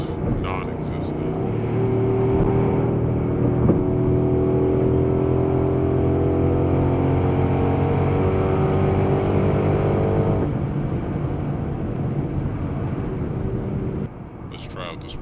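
A Mercedes AMG GLE 63S twin-turbo V8 SUV accelerates hard at night, its engine droning and rising steadily in pitch from inside the cabin before easing off near the end.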